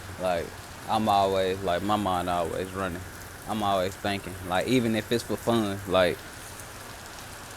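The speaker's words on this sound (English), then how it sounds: "I'm sure y'all can hear the rain in the background." Steady rain falls outside as a soft hiss in the background, while someone talks at length close up over it.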